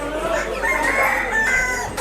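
Chickens for sale cluck and call, one rising like a rooster's crow, over the busy hum of a crowded produce market in Moulvibazar, Bangladesh.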